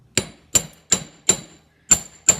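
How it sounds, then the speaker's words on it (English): Six crisp, ringing metallic strikes of a planishing hammer on the end of a wire resting on a bench block, evenly spaced about a third of a second apart with a short pause before the last two, close and clear. "What I'm going to do is hit solid on the end of that wire"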